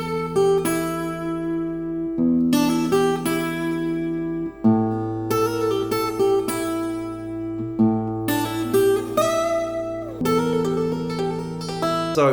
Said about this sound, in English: give you some really cool smooth blues